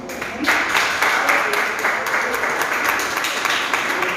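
Church congregation clapping steadily through a Tuesday worship service, a dense continuous patter of hands at fairly close range, with a voice faintly present underneath.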